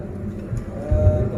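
A water buffalo lows, a short deep moan rising near the end of the moment, close and fairly loud, over outdoor background noise.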